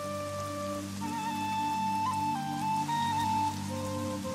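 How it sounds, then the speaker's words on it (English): Rain falls steadily over a valley in October, a continuous wash of patter heard up close and alone, with a faint musical drone running through the background. "October brings rain to the valley"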